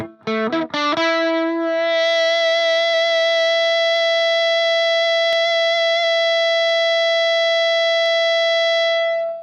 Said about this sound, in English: you can only hear the sound from the feedback generated by the pedal.